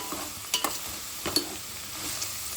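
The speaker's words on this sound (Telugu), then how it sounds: "ఇది మంచిగా నూనెలో పచ్చివాసన పోయే వరకు ఇట్లా" Oil sizzles in a pan while cabbage dal ingredients fry, soft steady crackle with a few sharp stirring clicks, close and alone.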